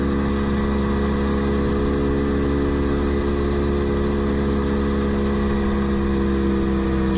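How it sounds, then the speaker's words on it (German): A 1980 MZ TS 250-1 two-stroke motorcycle under way, its steady buzzing engine drone loud and constant throughout, with wind rush and no talking. "Ich fahre hier also auf meiner MZ TS 250-1 von 1980."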